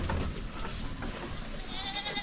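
A goat bleats on a farm, a close, loud, wavering call that stands out over the low rumble of the farmyard.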